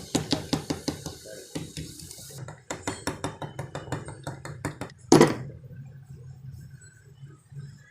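A hammer lightly taps a bearing cup into the front fork of a 70 cc motorcycle, a steady run of sharp metallic knocks, close and clear, with one louder clattering hit near the end.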